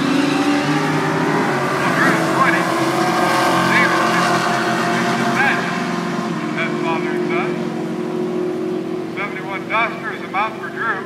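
A 1967 Dodge Coronet and a Duster make a drag racing time trial run, engines roaring and fading into the distance while a public-address announcer talks over the noise.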